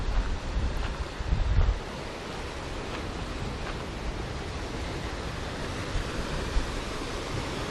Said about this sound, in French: Il y a la mer aussi qui arrive de ce côté-là.